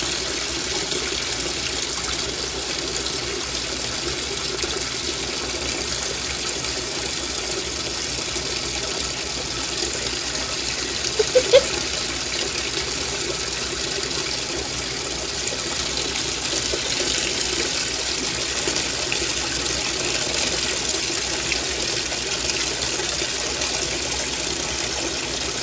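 Water runs steadily into a washing machine while a cat tries to drink from it, a constant close hissing gush with one brief splash midway and no talk.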